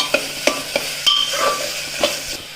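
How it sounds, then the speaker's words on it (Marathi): Peas, potatoes and tomatoes sauté in hot oil with a steady sizzle, broken by about half a dozen sharp scraping strokes of a spoon in the pan, up close with no voices. "भाज्या पण तेलामध्ये छान परतून घ्यायच्या"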